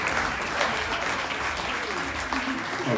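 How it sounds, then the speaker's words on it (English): Crowd applause at a live Elvis tribute show, continuous dense clapping from the audience, moderately distant and steady for a few seconds. "Give yourselves a round of applause."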